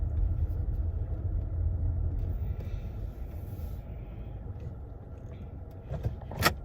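A car moves slowly through a parking lot, heard from inside as a low, steady engine rumble. A few faint clicks and a brief louder knock come near the end.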